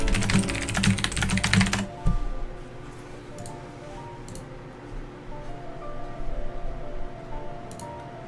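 Rapid typing on a computer keyboard, a dense flurry of clicks for about two seconds, then sparse, scattered keystrokes over a low background hum.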